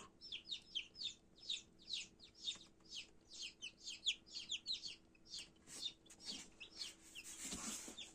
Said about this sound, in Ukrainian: виглядає процес вилуплення курчаток в інкубаторі